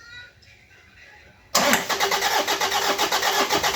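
Diesel Toyota Innova with a 2KD D-4D engine, after EGR system maintenance with fuel lines removed, cranks and fires abruptly after quiet, then settles into a loud, pulsing close-up idle.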